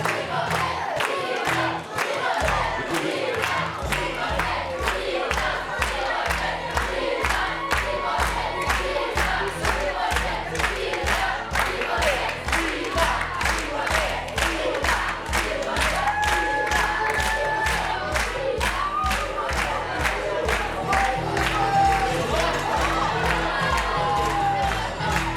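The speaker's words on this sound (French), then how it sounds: "Allez, on les applaudit bien fort, tous et toutes." An audience at a national improv theatre final at Studio Marigny claps and cheers for the whole stretch in a steady, loud, unbroken wash of applause, whoops and shouts.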